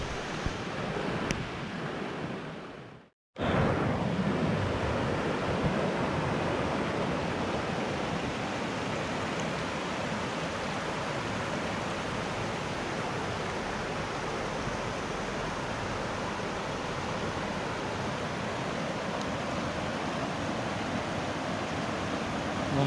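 The Putna waterfall at Tulnici roars as a loud, steady rush of falling water, with the flowing river beneath it. A short dropout happens near the start, and after it the roar carries on evenly to the end.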